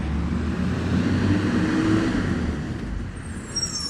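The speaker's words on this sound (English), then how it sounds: "Y'all probably can't hear it because of the garbage truck." A garbage truck passing outside gives a steady, loud low rumble of engine and road noise that fills the whole stretch, with a faint brake hiss near the end.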